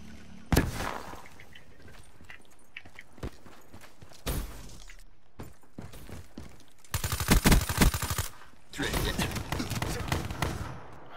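Gunfire in a shooter video game: a few scattered sharp shots early, then two dense, loud bursts of rapid automatic fire later on, with speech in between.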